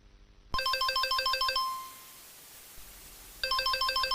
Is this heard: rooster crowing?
no